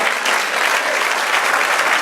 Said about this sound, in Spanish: Den un aplauso, Señor